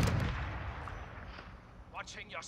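Gunfire in a video game as the player shoots through a wall, a heavy close blast at the start fading into rumbling echoes, with voices talking over it.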